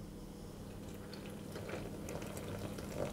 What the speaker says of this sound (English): I'm going to add my water, but I'm not going to add it all.